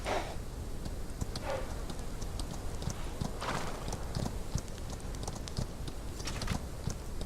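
Donkey hooves clop steadily as it is ridden in a video game, a continuous rhythmic patter of hoofbeats at close range, loud and alone over a constant background bed.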